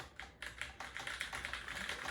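Fingers type on a Razer Special Edition keyboard, a steady run of soft, quick key clicks close up, fairly faint and even-paced with no talking.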